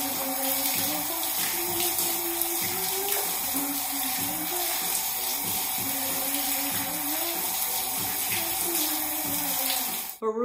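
Steady water runs from a tap during a hair rinse on wash day, a continuous close hiss and splash with a low pump-like hum. It lasts the whole stretch with no talking and cuts off abruptly at the end.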